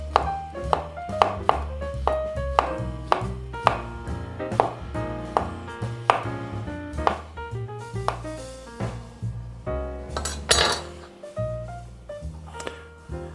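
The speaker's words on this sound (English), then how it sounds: "Next is the mushroom. Fairly thin slices." A kitchen knife slices mushrooms thinly on a cutting board, a steady series of close, crisp chopping taps in a regular rhythm with occasional pauses.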